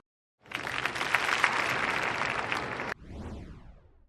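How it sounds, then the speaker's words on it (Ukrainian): An inserted applause sound effect bursts in after silence, a crisp, bright crowd clapping that cuts off abruptly and gives way to a descending whooshing tone. "Карл, треба все-таки вставити аплодисменти в це відео"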